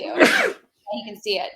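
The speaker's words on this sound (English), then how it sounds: "No, not your sneeze. Your sneeze, bro." A single loud, close sneeze bursts out at the start, then someone speaks a few words right afterward.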